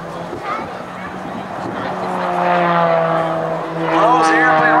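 An Extra 300 aerobatic airplane drones steadily overhead during airshow maneuvers, its propeller engine note rising and falling in pitch, heard under an announcer's continuous commentary.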